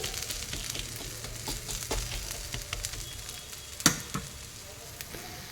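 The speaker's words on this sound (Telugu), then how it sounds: "నెక్స్ట్ ప్యాన్ హీట్ అయ్యాక పెసరెట్ వేసుకొని ఆనియన్స్ గ్రీన్ చిల్లీ కొరియాండర్ వేసుకున్నాను కొద్దిగా ఆయిల్ వేసుకొని" Pesarattu, a moong dal dosa topped with onions, green chili and coriander, sizzles softly in a little oil on a hot pan, a quiet steady frying hiss with occasional clicks and one sharper tap of a spatula.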